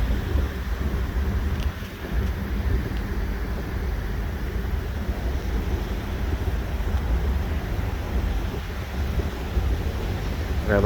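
A severe thunderstorm over Montreal fills the air with a dense, constant roar of heavy rain and wind, low rumbling underneath and no distinct close thunderclap, holding at a steady level throughout.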